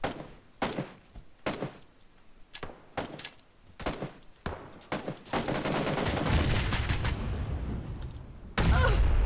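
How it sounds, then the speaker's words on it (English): Video game firefight with rapid bursts of gunfire cracking in close succession, followed by grenade blasts that swell into a long, loud roaring rumble, then a final sharp explosion. "I'm gonna throw a nade."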